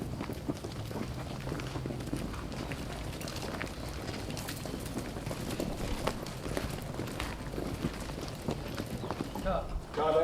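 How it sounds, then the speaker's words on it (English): Horses move at pace across an open film set for a medieval plague-era drama, hooves thudding steadily through a dense, busy outdoor din, with voices and crew chatter mixed in. "Horses."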